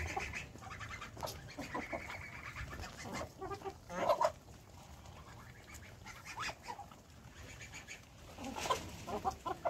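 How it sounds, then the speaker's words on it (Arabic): Backyard laying hens and a rooster clucking and calling continuously, several birds overlapping at close range, with a louder burst of squawking midway and near the end. "شايفين الديك؟ ما شاء الله."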